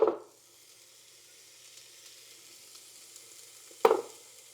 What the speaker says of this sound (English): And now I'm just going to carefully put them on my grill.